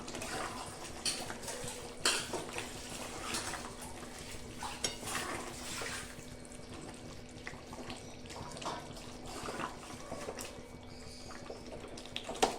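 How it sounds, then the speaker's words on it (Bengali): Achari chicken curry being stirred in a pot with a spoon, quiet wet squelching and repeated clinks of metal against the pot at an irregular pace, fairly faint and close, no voices. "দিয়ে এটাকে খুব ভালো করে মিশিয়ে দেবো।"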